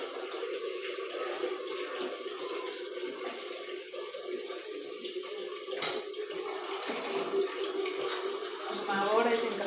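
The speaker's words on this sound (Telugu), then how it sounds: "చిన్నగా పడుతుంది వాటర్." A household tap runs slowly in a steady, thin stream of water, with a person talking over the flow.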